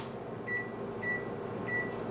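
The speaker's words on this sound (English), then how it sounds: "Then you put that in the microwave about" Microwave oven running steadily to melt a third of a stick of butter, a constant close hum with faint recurring high whine, alone with no talk.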